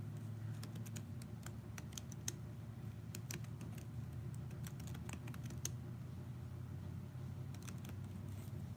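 Typing on a computer keyboard, with rapid, irregular clusters of light key clicks over a steady low hum in the background, quiet and close throughout, with no talking.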